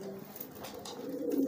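Young pigeon cooing while courting, a soft, low, breathy coo rising near the end over faint background noise, close but quiet with no talk.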